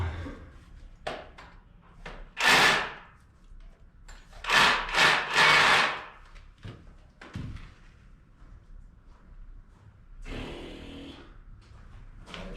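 A drill bores into wood in several short, loud bursts separated by quiet pauses and small handling clatter, the last burst longer and softer.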